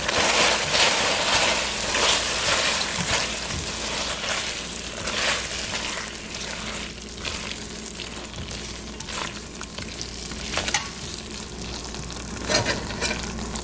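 Minced ginger and garlic sizzle and fry in a hot pan as they are tossed, a continuous loud crackle with occasional scraping stir sounds, no voices.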